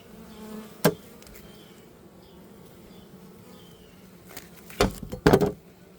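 Honeybees buzz steadily around a hive while sugar water and pollen patties are put in for feeding, a constant close droning hum broken by a few sharp knocks and clatters from handling the hive.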